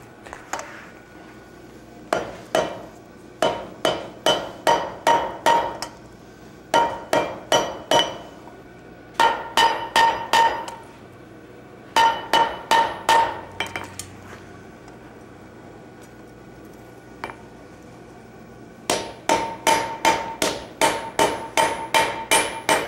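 A hammer rings on hot metal against a blacksmith's anvil at a smithing conference demonstration, struck in quick rhythmic runs of about five to eight blows. Brief pauses separate the runs, and the blows ring bright and close.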